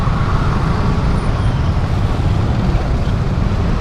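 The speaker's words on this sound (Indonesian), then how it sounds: "Ya apalagi siang udah macet begini" Steady roadway din of a morning traffic jam, with car and motor engines idling and rumbling close by in a continuous, even wash of low noise and no voices.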